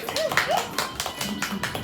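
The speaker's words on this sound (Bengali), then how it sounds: "সবাই হাততালি দাও" A family at home claps together in loose, uneven hand claps under chatter and voices, close and moderately loud.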